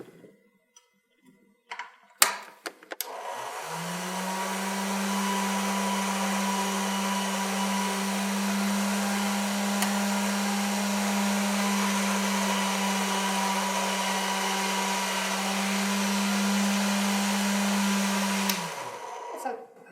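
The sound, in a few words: polymer clay being run through a pasta machine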